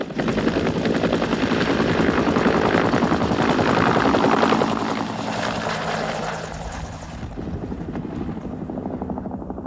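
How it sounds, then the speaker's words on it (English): A Cobra attack helicopter flying over an Army base in Colorado gives a loud, continuous rhythmic rotor thump and engine whine that eases off slightly as it moves away, with no talking. "We went to Fort Carson, an Army base in Colorado, to film a Cobra in operation"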